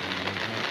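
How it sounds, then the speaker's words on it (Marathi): Heavy monsoon rain pours down in Shahapur, a dense, steady hiss of downpour with no voices. "रात्रीपासून हा मुसळधार पाऊस शहापूरमध्ये सुरू आहे"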